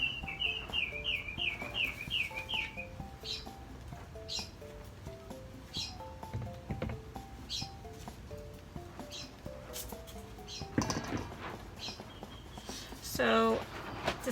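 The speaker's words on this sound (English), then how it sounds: "just let that play the bird song for a few more minutes" Birdsong recorded outdoors: repeated whistled phrases and quick chirps from several birds, some nearer, some farther off, over a constant background hum, with louder bursts of clatter toward the end.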